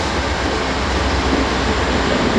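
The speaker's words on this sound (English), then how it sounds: "a leaser locomotive," A CN freight train rolls by in Homewood, Illinois, with its locomotives passing close, a dense steady roar of engines and wheels that does not let up.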